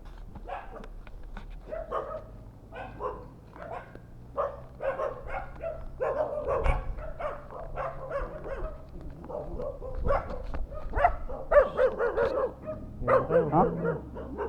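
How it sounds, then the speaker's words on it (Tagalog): A dog barks repeatedly near Caliraya Lake, a steady run of loud, close barks and yips lasting throughout, with people talking in between. "Yung aso nga."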